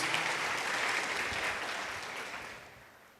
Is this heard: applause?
yes